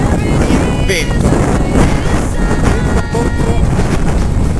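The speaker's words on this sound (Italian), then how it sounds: "vento contro, che ci ha costretto a fare a 15 all'ora." Strong headwind buffets a microphone while cycling, a loud, constant roaring rush with gusty fluctuations and no pauses, filling the whole stretch.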